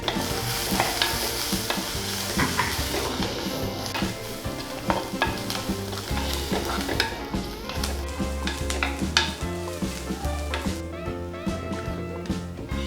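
Dried red chillies and onions frying in a pan, a spoon stirring and scraping repeatedly over a continuous close sizzle.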